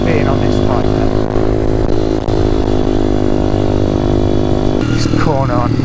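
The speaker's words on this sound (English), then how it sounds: "What do you think the top speed will end up being on this bike then?" Demon X 170 Detroit motorcycle engine drones loud and steady during a top speed run, rising in pitch as it accelerates, with a voice talking over it.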